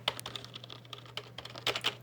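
Keys on a Microsoft computer keyboard clack in quick, uneven bursts of taps, close and crisp over a faint low hum, with no one speaking.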